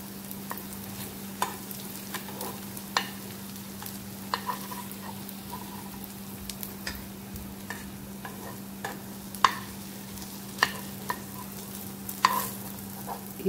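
Aluwadi, rolled colocasia leaf slices, shallow-frying in a little oil, with soft intermittent clicks and light sizzle over a steady low hum; no one speaks.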